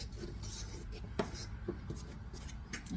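A fork scrapes and taps against a bowl while mixing einkorn dough, faint scattered clicks over quiet room noise.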